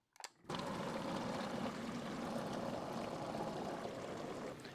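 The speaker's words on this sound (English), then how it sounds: "now I'm ready to test whether or not the fountain pump will draw more water than has seeped through the Scotch Brite pad enclosure" Fountain pump drawing water through a pottery studio sink drain setup with a Scotch-Brite pad enclosure, starting after a brief clunk and then a steady, close rushing and gurgling water flow that continues evenly.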